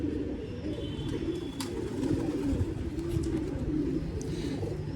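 Pigeons coo in low, soft, continuous murmurs close by, with faint chirps and distant background noise.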